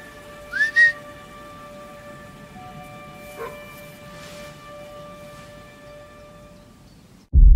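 A hunter's short two-note whistle rises sharply near the start of a theHunter: Call of the Wild game trailer, followed by steady tonal hums and a faint later chirp, ending on a sudden loud burst.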